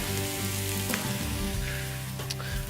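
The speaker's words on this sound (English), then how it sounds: "we should hear that sear off and sizzle quite nicely" Loud, continuous sizzling of porterhouse steak searing in a hot pan, a steady crackle and hiss with no voices.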